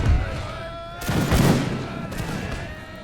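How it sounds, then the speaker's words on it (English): Massed musket volleys crackle along the battle lines in a Napoleonic-era strategy game with the Imperial Splendour mod, a loud burst of gunfire rolling into a rumbling tail with distant reports continuing behind it. "it looks like they're starting to fire on our lines directly"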